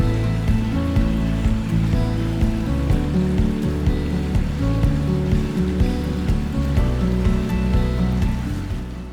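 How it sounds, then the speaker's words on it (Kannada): A rooftop garden sprinkler system sprays water over plants like rainfall, a dense, even patter and hiss running continuously and close, with no voices. "ಇಲ್ಲಿ ನಿಜವಾಗ್ಲೂ ಒಂದು ಮಳೆ ಬಂದಾಗೆ ನಿಮಗೆ ಅನುಭವ ಆಗುತ್ತೆ"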